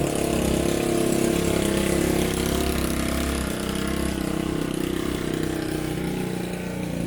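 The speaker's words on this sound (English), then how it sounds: "that was a gigantic motorcycle full of sugar" A large motorcycle passes by, its engine a loud, rough mid-pitched drone that holds steady and then eases slightly as it moves on, with no voices over it.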